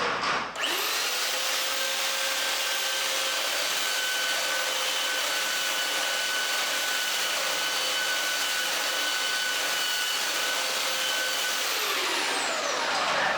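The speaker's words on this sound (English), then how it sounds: "So both hands on the sander." An electric sander runs steadily against a curved piece of wood, held with both hands and kept moving. The close, continuous motor whine and abrasive hiss hold level for about thirteen seconds with no talk.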